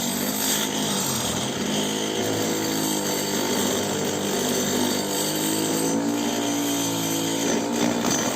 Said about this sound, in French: il va falloir que je retouche ça à la Dremel